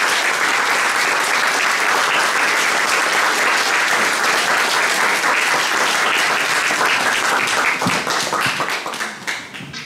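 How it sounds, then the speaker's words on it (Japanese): A school audience gives loud, sustained applause after a Yonezawa Technical High School taiko drum club performance, dense clapping from many hands close by that fades slightly at the end. "盛大に拍手で、"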